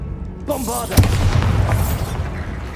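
A Bombarda blasting spell from Hogwarts Legacy goes off as a single sharp boom with rumbling debris trailing after it, accompanied by a short voiced spell cast just before and steady background game ambience.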